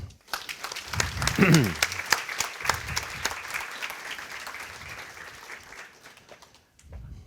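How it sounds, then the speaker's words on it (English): A lecture audience welcomes a speaker with a round of applause, a full, steady patter of many hands mixed with a voice early on, tapering off and dying away near the end. "I suggest we welcome him with a round of applause."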